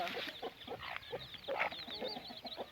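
Hens clucking in a garden with thin, high peeping of newly hatched chicks running through, steady and busy, heard close against a faint background hiss.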